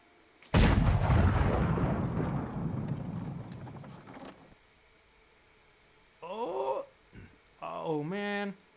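A cannon in the BeamNG.drive driving game fires one loud, booming blast that rolls off over a few seconds, followed by a voice speaking briefly.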